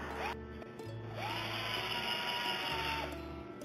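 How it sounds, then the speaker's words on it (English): A power drill with a quarter-inch bit whirs in steady bursts, spinning up and winding down a few times at close range with no one talking, while working on an ebike camper. "Using a quarter inch drill bit for that."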